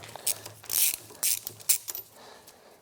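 Ratchet clicking in short bursts while a spark plug is loosened from a Lifan 90cc engine fitted to a Honda CT70, several quick close ratcheting strokes with brief pauses between.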